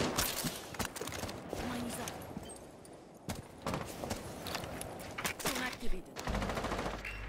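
Video game gunfire in a team shooter match, with sharp bursts of automatic shots and single cracks scattered across the clip, loud and close, mixed with footsteps and players talking.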